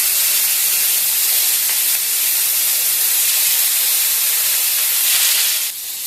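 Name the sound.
katla fish frying in hot oil in a wok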